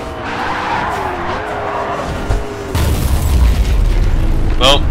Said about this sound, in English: third time I've totaled the car.